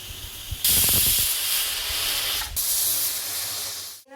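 Steady loud hiss of steam escaping from a pressure cooker on a village kitchen stove while mango sambar cooks, a sharp whistling burst near the start, a brief dip, then continuous venting until it cuts off.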